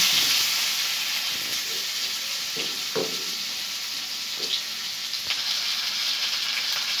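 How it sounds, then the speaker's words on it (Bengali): Fried lata fish sizzles in a pan as garlic and onion paste, salt and turmeric are added, a steady hissing fry with a few spatula scrapes and small knocks, near and without voices. "মাছগুলো ভাজা হয়ে গিয়েছে এখন আম্মু মাছগুলোর ভিতরে মশলা দিয়ে দিচ্ছে"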